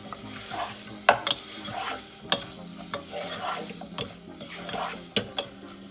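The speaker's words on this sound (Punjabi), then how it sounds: "ਤੇ ਹੁਣ ਆਪਾਂ ਇਹਨੂੰ ਕਰ ਦੇਾਂਗੇ ਇਸ ਤਰ੍ਹਾਂ ਮਿਕਸ" Pointed gourd (parwal) curry is stirred in a hot pan, with scraping strokes, sizzling and sharp occasional spoon clinks against the pan over several seconds.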